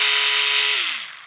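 A DuroFort 8 volt cordless screwdriver backing out a screw, its motor whirring at a steady high whine before the pitch sags and winds down as it stops, close and loud.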